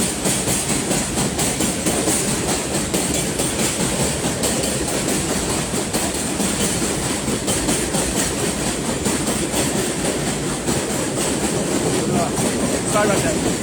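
An elevated green-line subway train roars past overhead near Utica Avenue station, Eastern Parkway, with loud continuous rumble and rhythmic clatter of wheels on rails, a voice faintly mixed in beneath.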